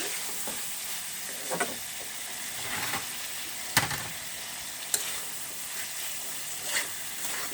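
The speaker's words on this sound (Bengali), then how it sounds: "এখন আমি ঢাকনাটা খুলে দিব, বেড়ে দিচ্ছি" Shutki with brinjal and jackfruit seeds fries in a pan, a constant close sizzle broken by occasional scraping stirs and light clinks, with no talking.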